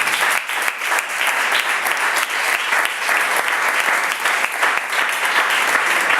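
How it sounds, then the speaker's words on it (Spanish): Loud, sustained applause from a church congregation, dense and continuous clapping with a few faint voices under it, close and unbroken for several seconds. "Ríndele fuerte el aplauso al Rey."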